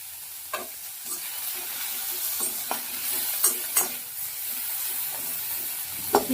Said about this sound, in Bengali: এবার একটু আবার টমেটোটা দিয়ে পেঁয়াজের সঙ্গে নাড়াচাড়া করে নেব